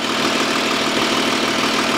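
A 2008 Audi Q7 3.0 diesel idles while warming up, giving a loud, steady, broadband drone with no change in pace across the short stretch and no voices.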